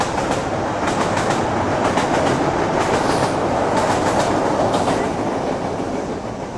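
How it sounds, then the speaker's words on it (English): A Chicago train rolls past on the rail line, a loud, steady rumble with rhythmic clickety-clack from the wheels, close and continuous throughout, without speech. "got the train going by again."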